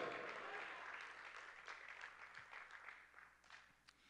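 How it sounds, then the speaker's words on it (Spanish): Soft, distant applause from a church congregation, a diffuse patter of many hands that fades toward the end, with a low background hum underneath. "Le da un aplauso una vez más al Señor"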